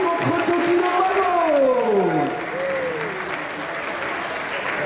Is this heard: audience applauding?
yes